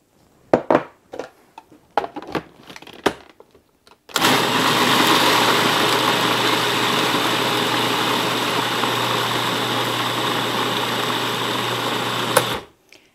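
Almonds ground with cinnamon, cardamom and powdered sugar for baklava filling, a few faint clicks and knocks, then a loud steady motor whir that runs for about eight seconds and stops abruptly.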